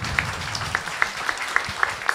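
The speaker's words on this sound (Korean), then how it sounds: "예, 박수 주세요." At a live public broadcast of a talk show, an audience applauds quietly: a soft, thin spread of claps with a few distinct louder hand claps spaced through two seconds.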